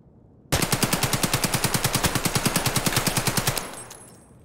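A 7.62 AK rifle firing on semi-auto in Escape from Tarkov: a loud, close, rapid string of roughly two dozen evenly spaced shots over about three seconds, then a short fading echo.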